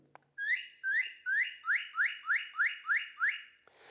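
Electronic bird identifier playing the Indiana state bird call: a click, then eight loud, evenly spaced whistled phrases, each rising and slurred, clear and close in a quiet room, ending in a soft click.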